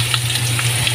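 Sayote pieces dropped into a pot of hot corned beef soup, giving a steady close simmering sizzle and bubbling with a low hum beneath, no talking.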